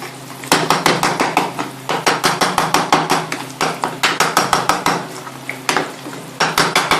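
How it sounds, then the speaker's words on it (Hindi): A spoon stirs eggs in a pan with rapid, rhythmic metallic scrapes and taps. The strokes come in loud bursts of several, separated by brief pauses. "अब हम इसमें अंडा ऐड कर लेंगे और इसको लगातार हम लोग चम्मच चलाते रहेंगे"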